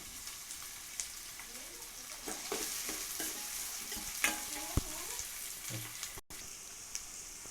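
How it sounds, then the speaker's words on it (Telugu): Onions and curry leaves fry in a pan, a quiet continuous sizzle with occasional scraping stirs and light clicks of the spoon, briefly cutting out near the end before resuming. "ఇవన్నీ మొత్తం బాగా వేగనిద్దాము. ఇందులో 2 రెబ్బలు కరివేపాకు వేసుకుందాం."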